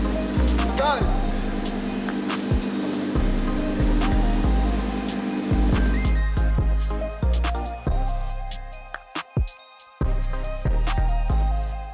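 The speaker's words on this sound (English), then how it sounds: "the engine sounds perfect and it sounds amazing" Engine of a wrecked 2018 Audi R8 V10 Plus running, a deep rumbling idle with repeated revs rising and falling, loud and close throughout, cutting briefly near the end.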